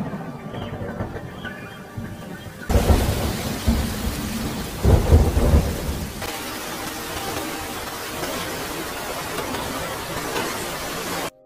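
Rain begins falling in a film scene, with heavy rumbling thunder swelling partway through over a steady wash of rainfall that continues to the end; no voices.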